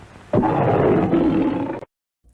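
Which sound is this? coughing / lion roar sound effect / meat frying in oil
lion roar sound effect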